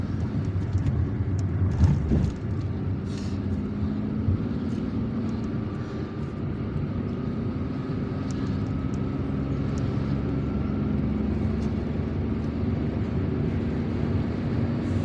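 Steady city road traffic around a moving car in Algiers, a continuous broadband rumble of engines and tyres that holds at an even level throughout, with no talking.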